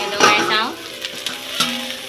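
Khutura greens with potatoes and chickpeas stir-fried in a pan, a brief burst of sizzling and stirring at the start that settles into faint, quieter frying with a few light scrapes.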